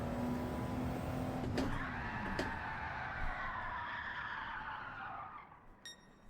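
Racing car in Gran Turismo 7 launching off the line with traction control off, a steady engine drone rising and tires skidding and squealing through the run, then easing off near the end; no talk.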